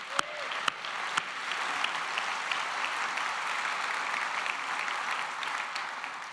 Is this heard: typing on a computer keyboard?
no